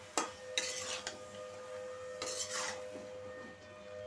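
Potato, eggplant and snake gourd are mixed in a cooking pot, a spoon scraping and knocking against the metal in a few sharp strokes between quieter stirring, close by, with nobody speaking.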